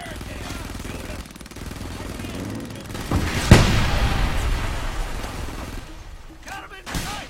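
Gunfire and explosions in the video game Frontlines: Fuel of War, with a continuous rumbling stream of distant shots, a sharp loud blast in the middle, and more bangs near the end, with voices speaking over the battle.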